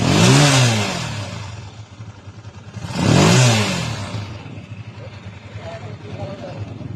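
A repaired engine revs up twice after timing gear work, each loud burst swelling over a deep rumble and then easing back to a steady idle.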